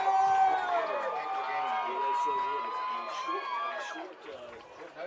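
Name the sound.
football crowd cheering on the near side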